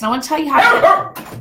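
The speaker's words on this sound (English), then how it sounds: "So sorry about the dog barking." A dog barks and yips indoors, mingled with someone speaking steadily over it, the barks close and fairly loud.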